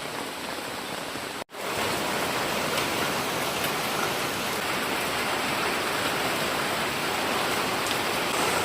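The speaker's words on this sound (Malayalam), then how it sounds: "രാവിലെ മഴയാ." Steady morning rain hisses down loud and close, a dense unbroken downpour with one brief dropout near the start.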